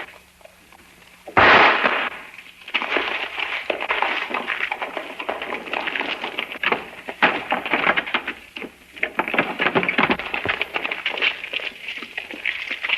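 Gunfire in an old western film: a sharp loud shot bursts out early, followed by a busy, noisy stretch of scuffling, rumbling and further pops that sound like the fight continuing, with no clear speech.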